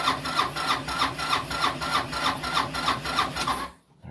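A Honda Helix scooter at 1°F (-17°C) cranks over a cold start. The starter churns in a steady rhythmic grind of about a dozen even pulses, then cuts off.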